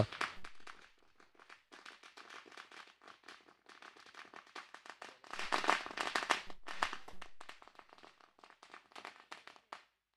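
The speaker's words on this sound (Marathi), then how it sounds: "या दरम्यान आपण पाहतोय फटाक्यांच्या आतिषबाजीने मान्यवरांचं या ठिकाणी आगमन होत आहे" A long string of firecrackers bursts outdoors at a cricket tournament match to welcome arriving guests, rapid sharp cracks popping continuously and swelling into a dense, louder volley midway before thinning out.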